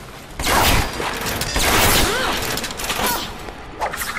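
Gunfire and explosive blasts from the first-person shooter Bioshock, a loud dense fusillade with booms and mechanical clatter running continuously, a particularly heavy burst early on, with someone talking over parts of it.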